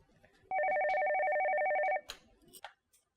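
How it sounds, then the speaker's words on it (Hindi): An office telephone rings once with a steady electronic warbling tone lasting about a second and a half, loud and close, followed by a few faint handling sounds. "फोन उठाओ"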